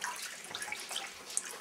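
Warm water running from a tap into a sink, a soft steady hiss with faint droplet splashes, quiet and close.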